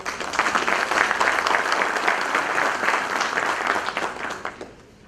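A seated audience at a national notarial conference in Cusco gives a speaker a warm welcome, dense clapping filling the hall loudly for about five seconds before fading out.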